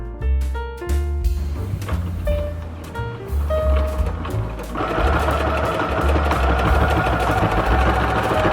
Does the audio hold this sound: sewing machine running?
yes